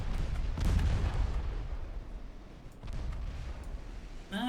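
Torpedo impacts in the naval warfare game Ultimate Admiral Dreadnoughts, heard as a heavy booming burst followed by a rumbling wash, then a second swell of explosions. The blasts are loud and low, and no voices are heard.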